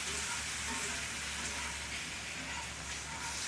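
Tomato gravy cooks and is stirred in a pan for a country breakfast, with a faint, even simmering sizzle and low background rumble throughout.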